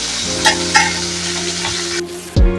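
Chilies and five-spice hit hot leftover fish-frying oil in a pan with a loud, crackling sizzle and a few sharp spits. A clunk and a low thud come near the end, with no talking.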